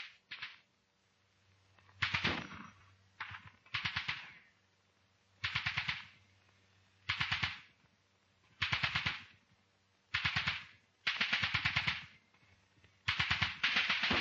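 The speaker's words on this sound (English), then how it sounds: "The covering section on Scrubby Hill opens rapid fire. Simultaneously, the 2-inch mortar opens fire with smoke." Rapid rifle fire from a covering section and 2-inch mortar rounds firing smoke in a WWII British infantry training exercise: repeated sharp bursts of cracking shots in clusters, separated by short pauses, with a low thud underneath early on.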